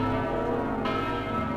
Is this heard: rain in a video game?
no